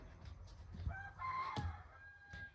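A farmyard rooster crows faintly in the background, a short strained call rising midway, with soft rustling nearby and no talking.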